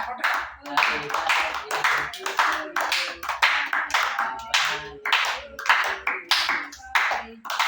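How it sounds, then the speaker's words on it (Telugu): Sharp hand claps in a quick, irregular series, some doubled, repeating steadily and fairly close throughout, with voices talking faintly underneath. "క్లాప్ కొట్టు."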